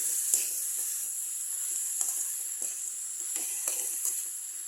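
An ivy gourd stir-fry sizzles in a pan as it is mixed, with a constant high hiss. Soft scraping and stirring strokes repeat at an uneven rhythm, and no one speaks.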